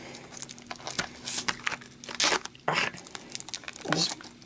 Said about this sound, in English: Freaking bit the plastic there.